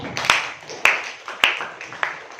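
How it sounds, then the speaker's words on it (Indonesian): A handful of students in a classroom clap to applaud group 1, four or five sharp, sparse claps spaced about half a second apart, fairly close and thin, with no talking. "sampai situ tepuk tangan untuk kelompok 1"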